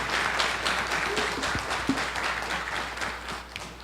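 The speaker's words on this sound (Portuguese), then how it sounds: "eu gostaria de pedir a todos que estão aqui que deem uma salva de palmas para essa coordenação" An assembly audience gives a round of applause for the outgoing coordination team at a meeting, a steady wash of clapping throughout at moderate level with a few sharper claps standing out.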